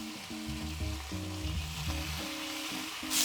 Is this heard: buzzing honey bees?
no